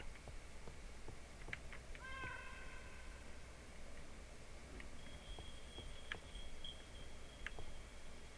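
Cat meows in the Minecraft game, a couple of faint short mews standing out over a low steady hum and scattered soft game clicks.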